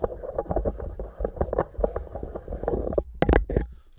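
Head being unscrewed from an Audio Technica BP40 broadcast dynamic microphone, a close, rough scraping and rumbling of handling noise with irregular knocks and a few sharper clicks near the end.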